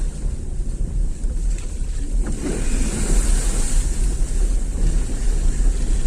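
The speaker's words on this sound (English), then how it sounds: "If you can able to listen the sound of water" A small car, a Maruti S-Presso on an off-road drive, pushes through water, producing continuous rushing, splashing noise with low rumble and wind buffeting throughout, with no talk.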